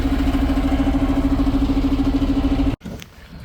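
A Ural truck engine idles with a steady low rumble and regular pulsing throb, then cuts abruptly near the end to quieter background noise.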